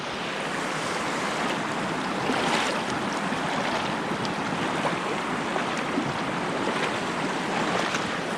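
Continuous rushing river water while a hiker wades straight through the middle of the current, a dense steady wash with faint splashes, no voices.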